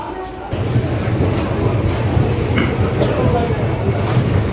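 The Guwahati–New Bongaigaon passenger special pulls out of an electrified Guwahati station at 5 AM, giving a low steady rumble of rolling stock with faint clanks, loud and close throughout.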